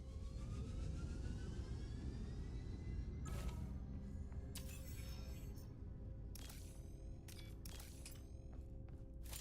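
A spaceship takes off in the video game Jumpspace, a steady low engine roar building with rising whine tones, then sharp bursts and clicks crowding in over the rumble, with no talk.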